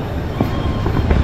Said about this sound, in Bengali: এই যে আমাদের ট্রেনটা এসে এখানে থেমেছে